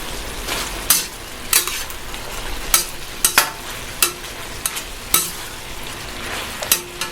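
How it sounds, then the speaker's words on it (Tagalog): Mushrooms frying in butter in a hot pan, a steady close sizzle broken by repeated sharp scrapes and clacks of a utensil stirring. "Mushroom goes to the pan."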